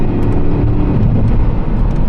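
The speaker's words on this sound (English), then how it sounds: "So I'm just gonna downshift it here, put my foot down, upshift." Turbocharged car with a TipTronic transmission being downshifted and accelerated hard: a loud, steady, close engine roar from inside the car, heavy low rumble without clear breaks.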